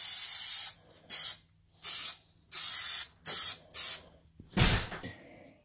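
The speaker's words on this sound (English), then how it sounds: "we're going to spray it, let it sit for a few minutes, and then go with it" Instant bond adhesive hisses from an aerosol can in a run of short bursts, about six or seven separate sprays of roughly half a second each with brief pauses between them, close and loud, during a Mustang S197 door panel insert repair.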